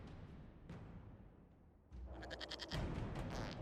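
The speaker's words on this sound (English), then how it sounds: "we discovered this man attacking the building with a goat" A goat bleats in the Dragon Age: Inquisition video game, a short nasal cry with a loud crash or boom in the background; no one speaks.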